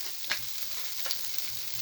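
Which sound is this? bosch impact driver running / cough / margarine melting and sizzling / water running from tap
margarine melting and sizzling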